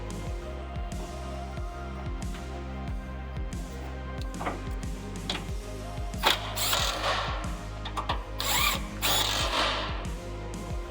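A ratchet tightens bolts on a fabricated metal bracket mounted on a vehicle, with rapid repeated clicking strokes and a steady mechanical whir, close and fairly loud, punctuated by metallic clanks.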